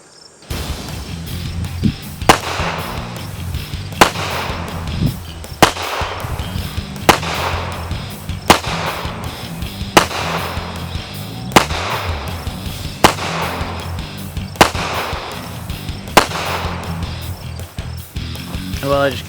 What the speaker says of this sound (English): I'm just going to do a couple close range groups for you, and then we'll try a few double taps and some steel